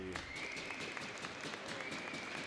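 Fans at a boys high school hockey game between Grand Rapids and White Bear Lake give steady, distant applause in the arena as an injured official gets back up, with faint rhythmic clapping throughout.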